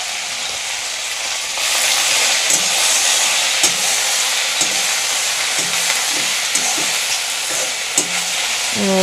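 Bok flowers dropped into a pan of hot oil with fried cumin: a loud, steady sizzle and hiss swells after a couple of seconds, with scraping stirring clicks recurring close up.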